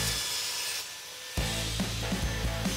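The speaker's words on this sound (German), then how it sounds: "Dafür verwende ich die Parkside Tischkreissäge." A Parkside table circular saw cuts through a wooden tabletop: a steady rasping whine, a short lull, then a louder resumption with rhythmic pulses as the blade bites the board, close and without talk.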